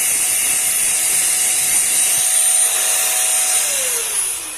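A Zola wireless air duster blows with no nozzle attached, giving a loud, steady high-pitched whine and rush of air up close that winds down in pitch as it stops.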